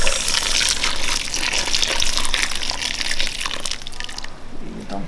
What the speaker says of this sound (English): I have the boiling water. Okay. We add to the tomatoes.